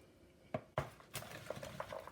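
A spoon clinks and scrapes against a bowl as melted butter is stirred into a mashed green plantain mixture, with a few sharp taps and soft, uneven scraping close by and no talking.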